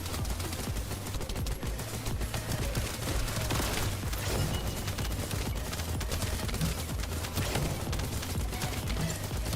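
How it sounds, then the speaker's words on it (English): Dense, continuous automatic gunfire and bullet impacts fill a chaotic firefight in the shooter game The First Descendant, loud and unbroken throughout with no clear speech. "So much bullets flying in my face."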